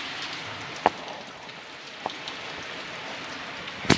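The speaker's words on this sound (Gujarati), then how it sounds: "સવારથી આવી સેમ જ રીતે વરસાદ થયેલો, સેમ રીતે." Steady rain falls in a continuous soft hiss, with a few sharper drops or drips tapping nearby at irregular moments.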